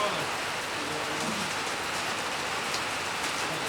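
Rain falling steadily during an outdoor cricket match, a dense loud hiss of drops that fills the whole stretch without a break.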